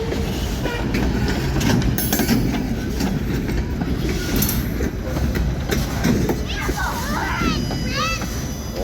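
Long freight train passing close by, a steady loud rumble with repeated clickety-clack of wheels over rail joints and faint squeals, a person talking over it.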